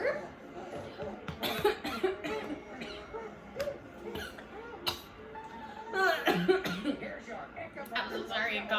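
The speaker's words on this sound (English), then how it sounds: "I coughed near your head" Several coughs burst out close to the microphone during a hospital labor and delivery, scattered among quiet background murmurs and some talk.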